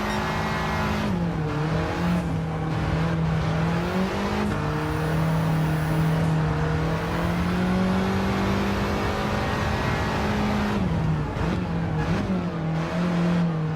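A Volkswagen Golf in the racing game Gran Turismo 7 revs hard through the gears, its engine note climbing steadily and dropping at each shift. The sound is loud and continuous throughout, with no talking.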